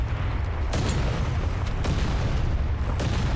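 Missile explosions in the survival game Night of the Dead, a series of sharp booms recurring at irregular intervals over a dense, rumbling background of gameplay noise.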